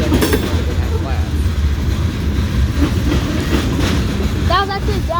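A CSX freight train with a five-unit EMD locomotive lashup rolls past nearby, with a continuous loud rumble and the clatter of wheels over rail joints, while people talk over it.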